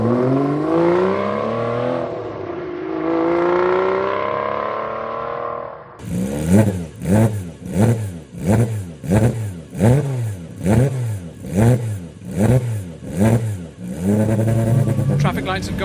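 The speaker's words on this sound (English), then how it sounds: "time for the DBS to do its drive off" An Aston Martin DBS engine drones as it builds revs, goes briefly quiet, then accelerates away hard through a rapid run of rising and falling rev bursts, loud and close.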